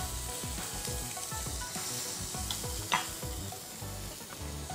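Steak searing in a very hot pan, a dense continuous sizzle and crackle with rhythmic scraping or stirring strokes, loud and close, with no talking.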